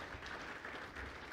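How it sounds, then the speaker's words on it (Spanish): Applause from a church congregation during a Christmas service, a short burst of many hands clapping together, heard faint and distant with no voices. "Denle un aplauso al Señor."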